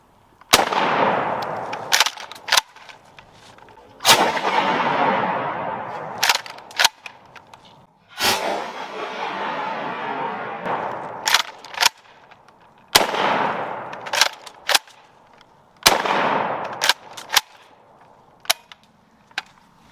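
Repeated shotgun blasts from a UTS 15 or M&P 12 fired one-handed outdoors, loud sharp reports spaced a second or two apart, each followed by a ringing decay, with occasional smaller clicks between shots.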